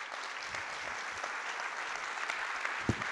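An audience applauds the moderators at the closing session of a 2017 conference, a dense, steady wash of many hands clapping throughout, close and sustained.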